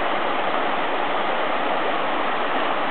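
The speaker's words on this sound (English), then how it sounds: "Nice big pool into the creek." Creek water in U.S. Forest Service woodland pouring into a big pool, a steady close rushing wash with no pauses or voices.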